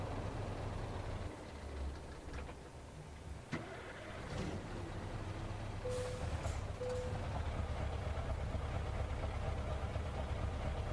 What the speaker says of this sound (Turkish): Çalıştıralım. Dışarıdan ses, sesini dinleyelim.